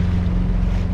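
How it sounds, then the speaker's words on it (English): A sailboat's diesel engine cruising out toward the Gulf of Mexico gives a steady, close, low droning hum, blended with wind and water noise throughout. "this boat's equipped with a diesel engine and a steering wheel, so we have just an easy cruise"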